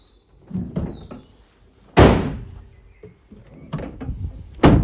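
Rear door of a 2018 Ford Transit 2.0 EcoBlue L3H2 van shut with one hand, giving a single loud, close slam, preceded by quieter handling clunks and followed by another sharp thud at the end.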